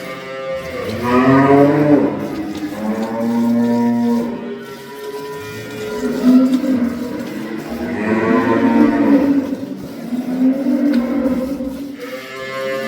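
A Friesian cow moos loudly and close by, several long, drawn-out lowing calls one after another with short pauses between them.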